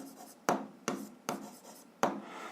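Pen strokes on paper during a physics lesson, four distinct scratchy strokes each starting sharply then trailing off, close and quiet with no voices.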